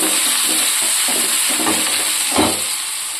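Green chili, ginger and onion fry in hot oil with a steady, loud sizzle, broken by a few scraping stirs of a spoon in the pan, no voices.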